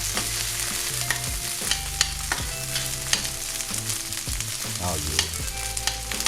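Mushrooms and onions sizzle and fry in a pan while being stirred, with steady crackling and scraping close by and a voice briefly speaking.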